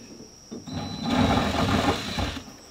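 Impact tool working the gudgeon fasteners loose on a Catalina 25 sailboat, a steady mechanical rattling hammer that builds and runs continuously for about two seconds, fairly close.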